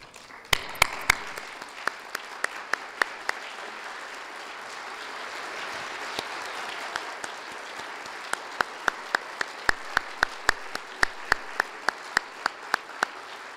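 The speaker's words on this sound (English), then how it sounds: "Would you please join me in standing to give all of these women a round of applause?" A standing audience at a women's hall of fame induction ceremony gives a round of applause, a soft steady patter of many hands punctuated by sharp, distinct nearby claps.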